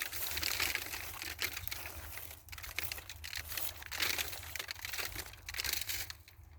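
Protective bags are pulled off sunflower heads in a garden, making close, continuous crinkling and rustling of plastic with uneven bursts of scrunching and no talking.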